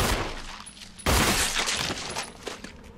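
Loud bursts of gunfire crack out in the survival horror game Resident Evil HD, a sharp heavy blast at about the one-second mark followed by rough, sustained shooting noise and a few smaller hits.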